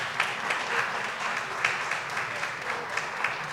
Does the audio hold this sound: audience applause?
yes